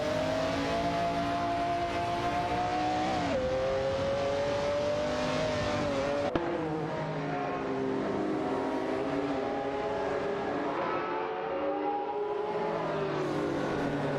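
McLaren F1 and Porsche 911 GT1 race cars in a racing video game scream along in a steady high-revving engine whine, with gear shifts and pitch dips as they battle on track, loud and continuous with no talk.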